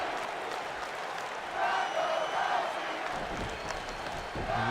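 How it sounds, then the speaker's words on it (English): Crowd cheers and applause fill a wrestling arena in the WWE 2K19 video game, a steady wash of noise that swells midway, with a commentator talking over it. "Crowd siding a little bit with with Ronda Rousey on this one"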